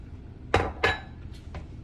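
A utensil stirs chicken stock into a beef and mushroom stroganoff sauce in a pan, making two sharp metallic clinks followed by two lighter taps against the pan.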